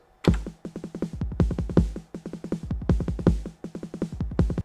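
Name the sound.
Roland 909 drum machine bass drum and snare pattern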